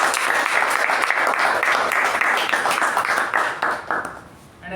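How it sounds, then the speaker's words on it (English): Sustained applause from a meeting audience, steady, dense clapping from many hands, loud and close, fading slightly at the end. "Huge round of applause to him for this."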